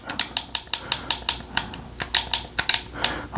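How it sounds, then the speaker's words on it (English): Close, crisp keystrokes on a keyboard as a search term is entered, tapping out at a fairly even rhythm of about three or four clicks per second, with no talking. "I'm just gonna type in LG space"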